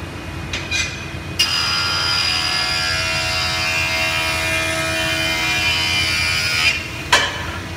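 Thickness planer running a pass over a wooden board being brought down to 15/16 inch, a steady loud mechanical whine and roar with the cutterhead spinning up, sustained through the cut, then a sharp burst as the board exits.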